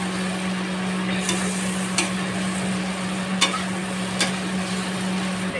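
Soya chunks fry in spice masala in a pan, giving a continuous gentle sizzle with occasional sharp clicks of a spoon against the pan every second or so, close and steady, no talking.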